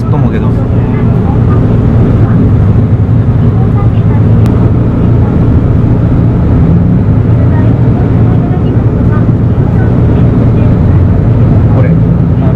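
Low V8 diesel drone of a first-generation Mitsubishi Fuso Aero Bus, a steady rumble heard from inside the coach at cruising speed, loud and continuous with faint voices underneath.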